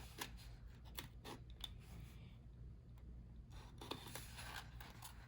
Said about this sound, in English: just cut that corner piece off like so